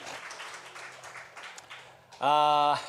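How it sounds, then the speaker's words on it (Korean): A church congregation at a Sunday worship service breaks into a short burst of applause, heard near and loud at the end after a stretch of voices and room sound. "우리 하나님께 영광의 박수 올려드리겠습니다"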